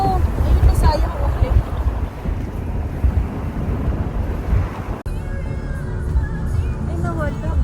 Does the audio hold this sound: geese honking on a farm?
no